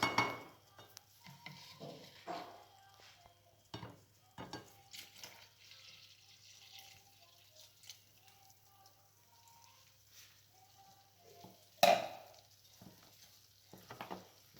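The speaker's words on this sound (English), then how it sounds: "So we are supposed to stir until we cannot stir it anymore." Buttermilk being stirred into Irish soda bread dough in a bowl, with scattered soft scraping and wet mixing sounds, a few spoon knocks and a louder clack near the end, with faint speech in places.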